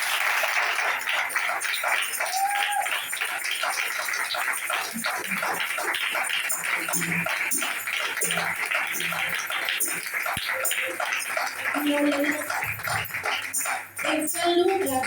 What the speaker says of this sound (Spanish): Dale fuerte las palmas al Señor.